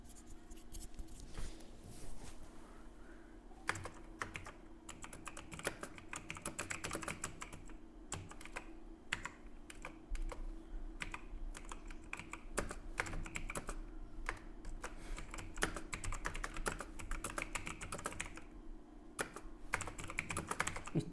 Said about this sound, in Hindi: देखिए मैं टाइप करके दिखाता हूँ आपको।